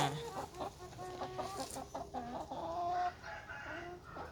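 Young hens, not yet laying, cluck and chatter close by, a busy run of short calls with the odd drawn-out squawk.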